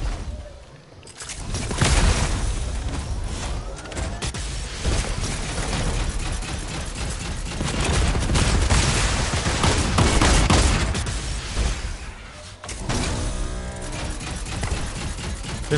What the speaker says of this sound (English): Run up the rockets. Fire now!